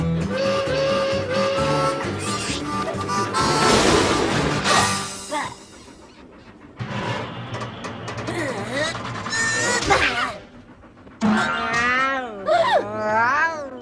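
A cartoon cat meows repeatedly in wavering, drawn-out cries amid busy background music and sound effects in a Polish animated series.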